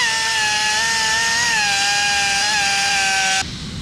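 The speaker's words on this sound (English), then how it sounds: "So I'm going to go ahead and get it out with this die grinder." A die grinder grinds a burr out of a metal exhaust header, giving a loud, steady high-pitched whine that holds for over three seconds and then cuts off abruptly.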